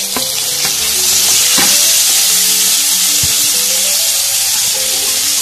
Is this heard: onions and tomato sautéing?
yes